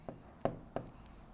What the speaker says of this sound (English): So we write out our formula.